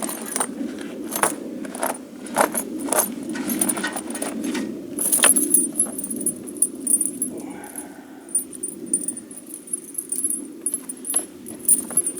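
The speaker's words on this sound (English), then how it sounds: "Drape the chain over top of the" Metal tractor tire chain being draped over a tractor tire, a run of jangling, clinking links in bursts, close by and fairly loud.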